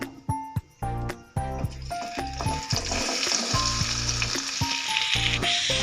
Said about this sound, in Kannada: ಈ ಎಣ್ಣೆ ಕಾಯ್ದ ಮೇಲೆ ಇದೇ ಒಂದು ಬೌಲ್ಗೆ 1 ಬೌಲ್ನಷ್ಟು ಈರುಳ್ಳಿಯನ್ನು ಹಾಕ್ತೀನಿ.